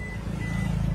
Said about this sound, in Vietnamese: Mở cửa sẽ cảnh báo này